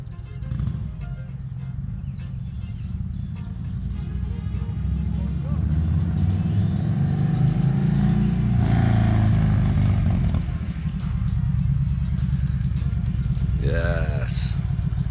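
Yamaha V Star 1300 motorcycle fitted with a Cobra slip-on exhaust, a loud deep rumbling engine running steadily and swelling in the middle, with a person talking over it.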